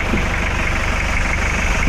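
A Toyota Hilux's replacement 3L diesel engine idles at close range with a steady, even rumble and a faint rhythmic knock, running alone without any voices.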